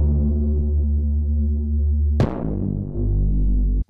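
Synth bass made of three sine waves and noise plays alone as a deep, steady sustained tone, then a sharp bright attack leads into a second held note that fades slightly before a sudden cutoff.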